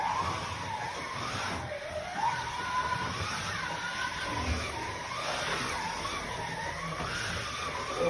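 A Scalextric-style slot car, a sidewinder type, drifts sideways around the track, its motor whining and sweeping up and down in steady laps that repeat every few seconds under a constant rolling rumble.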